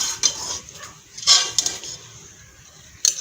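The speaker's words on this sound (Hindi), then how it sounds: "अब हम कुकर से गोश्त को निकालते हैं" Pots and utensils clink and clatter while cooked mutton is lifted out of a pressure cooker in a home kitchen, with several sharp metallic knocks spread across a few seconds and no talk.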